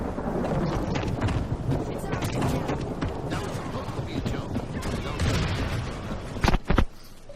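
Video game gunfire in a shooter with bazookas, dense bursts of rapid shots and booming blasts running almost continuously at loud level, with a few sharp louder cracks near the end and faint voices underneath.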